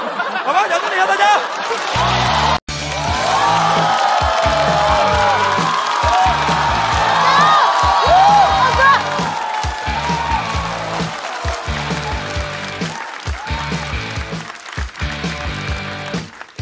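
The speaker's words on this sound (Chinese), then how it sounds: "掌声一下大家" Applause, chatter and scattered laughter fill the room at a stand-up comedy show, continuous and fairly loud over a pulsing musical backing.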